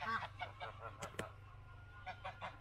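Geese on a homestead honk in a quick run of loud, close calls, followed by a brief pause and then more honks at the end.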